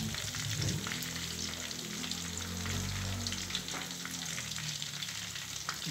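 Chicken pieces sizzle and crackle steadily in hot oil, a dense continuous frying hiss close by with a few brief stirring clatters and no voices.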